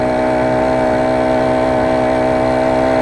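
A motorized bicycle with a 4-stroke GX35-type engine holds a loud, steady high-revving drone while climbing uphill, close and continuous with no talk.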